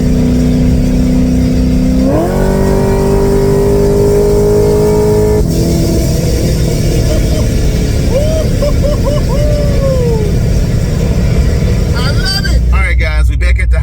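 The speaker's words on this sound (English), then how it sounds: "Now here we go under acceleration." A C6 Corvette pulls hard under acceleration from inside the car, the engine note climbing steadily, dipping at a gearshift, then rising again loud and continuous.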